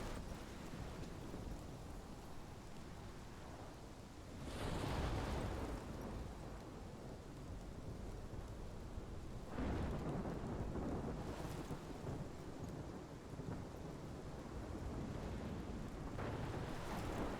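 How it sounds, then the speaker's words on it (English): A thunderstorm in the video game Life is Strange rolls on with constant heavy rain and wind, broken by several deep thunder rumbles and cracks at intervals. "This is my storm."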